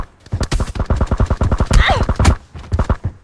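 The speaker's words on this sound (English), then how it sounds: "I'm gonna fire some shots at him" Rapid bursts of gunfire in PUBG Battlegrounds, a dense string of loud sharp shots fired close by over about two seconds, with a faint voice underneath.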